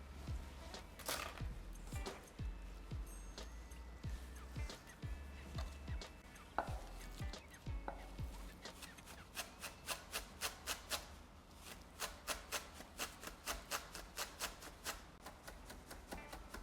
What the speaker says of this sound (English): I'll start chopping some herbs. About one bunch of chives is good for this recipe